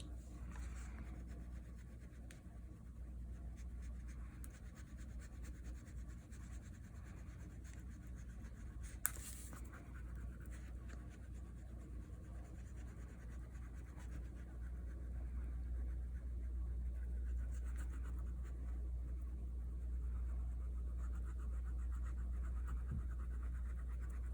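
Green marker coloring on paper for a children's shapes craft, soft continuous scratchy strokes close by over a low background hum, with one brief sharp tap midway.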